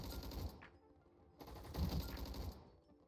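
Rapid automatic gunfire in the Roblox shooter Gunfight Arena: two short, quick-firing bursts about a second apart, fairly faint, with no talking.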